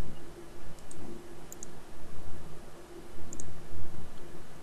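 A computer mouse clicks a few times, faint and sharp, over a steady background hiss.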